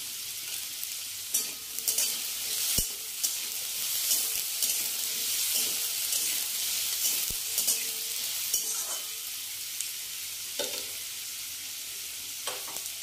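A green chili frying in a pan, a bright hiss of oil running throughout with scattered light clinks and stirring sounds at moderate level.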